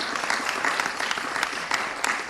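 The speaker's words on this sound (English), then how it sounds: "When big money like that comes from the state, we got to give that a round of applause, right?" Audience applause at a mayor's press conference, a short burst of steady clapping from a modest crowd, fairly close and even throughout.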